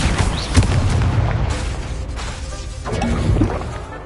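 Confringo explosive spell blasts in the Hogwarts Legacy video game: a dense run of booming impacts and crashing bursts with sharp cracks near the start and again late, sustained loud throughout with little pause.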